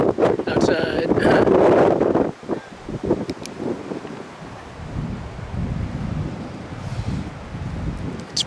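Wind gusting across an outdoor field at a high school junior varsity baseball game between Natick and Brookline, a loud rumbling buffet on the microphone at the start that eases to a steady lower roar, with faint voices around it.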